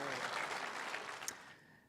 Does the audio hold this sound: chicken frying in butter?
no